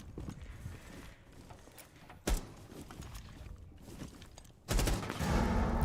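Gunfire in Rainbow Six Siege during a competitive esports match, with a sharp single shot and then a louder sustained burst over low rumbling game ambience.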